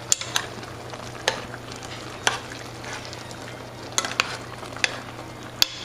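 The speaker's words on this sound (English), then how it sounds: "So I've got my butter in there. I'm gonna get that melted down in there in my meat mixture." Butter melting into a hamburger meat mixture in a pan for hamburger stroganoff, with a steady low sizzle broken by sharp intermittent scrapes and taps of a spoon stirring, close and fairly quiet, no talking.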